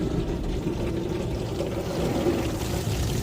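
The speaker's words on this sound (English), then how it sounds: "Yeah, that's water." Water sprays and pours over a car during the rinse stage of a car wash, a steady rushing splash heard close and continuous without talk.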